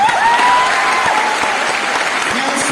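An audience in Patna claps for teachers in a sustained, dense round of applause that holds steady throughout, loud and close, with no pauses.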